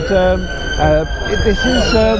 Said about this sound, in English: Sorry about the sound of the sirens going off in the background.